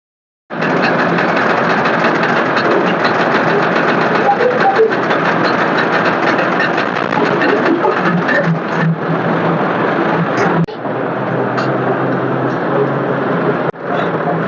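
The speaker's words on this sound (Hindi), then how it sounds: "ट्रैक्टर के पीछे प्लांटर लगाया जा रहा है जी।" A tractor engine runs steadily and loudly with a maize planter hitched behind, a continuous droning rumble that shifts slightly in tone partway through, with a couple of faint knocks.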